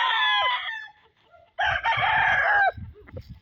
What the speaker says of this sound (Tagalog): Mga manok ni Boss Billy eh.